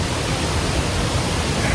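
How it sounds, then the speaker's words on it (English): A waterfall rushes loud and close in a national park, a dense, continuous broadband roar that holds steady with no pauses and no voices. "And I'm by this waterfall."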